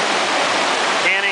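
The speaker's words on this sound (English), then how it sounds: "This is looking down at the combined flow of the confluence headed toward the Colorado River." Thunder River and Tapeats Creek meet at high flow and rush on toward the Colorado River, a loud, steady roar of churning whitewater heard close up and without pause.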